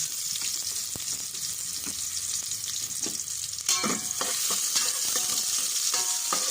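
Garlic and onion sauté in a hot pan for pork rib biryani, a loud sizzle broken by repeated scraping stirs and clanks of a utensil against the pan, with no talking.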